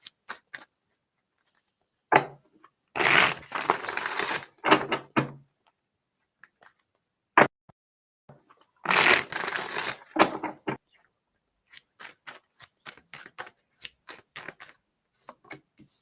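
Tarot cards being shuffled in two long riffling bursts, then scattered short flicks and taps of cards being laid out, close and fairly loud against near silence.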